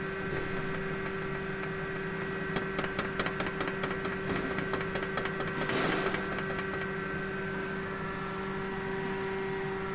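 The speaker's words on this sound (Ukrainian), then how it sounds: "Машина заведена, труба постійно дребежить." A Mercedes W204 C220 idles steadily with a constant low engine hum while a loose exhaust pipe near the engine rattles, producing faint, irregular buzzing vibrations in the middle of the recording.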